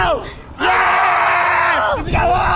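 A group of people shout together on a counted cue, loud and close, a brief yell followed by a long sustained collective scream that breaks off and starts again near the end.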